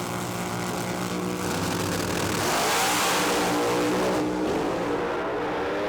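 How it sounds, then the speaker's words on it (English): A funny car engine fitted in a hot-rodded 1927 Ford Model T altered roars loudly at a drag strip, its pitch climbing steadily as it accelerates, then dropping off sharply near the end. "It's got a funny car engine in it, and it's fast."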